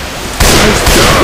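Gunfire in the game I Hate Mountains: a loud, close burst of blasts hits suddenly and continues as dense, roaring fire with a second jolt partway through, with no talk over it.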